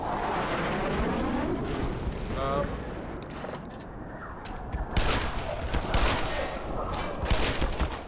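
Rapid gunfire and explosive blasts in the first-person shooter Black Mesa, loud and continuous in a dense firefight with overlapping shots and impacts across the whole stretch.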